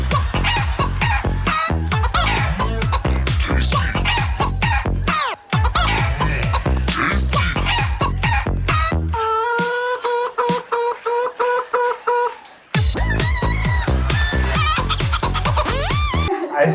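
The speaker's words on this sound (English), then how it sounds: "just saw some video of you guys dancing to some chicken song" A loud, busy chicken-themed song packed with sampled clucking and rooster crowing over a pounding beat, with a stretch of sustained crowing-like tones midway before the beat returns.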